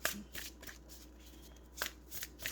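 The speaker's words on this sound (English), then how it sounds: "Oh man, my shuffling skills." Tarot cards being shuffled in quick riffling bursts, close and fairly soft, with short pauses between the flurries.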